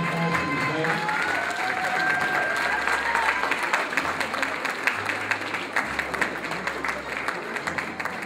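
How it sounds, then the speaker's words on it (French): Audience applauding for Madame France beauty pageant contestants at a casting event, sustained dense clapping from a crowd throughout, with a faint voice and background music underneath. "Applaudissements pour Madame France, s'il vous plaît."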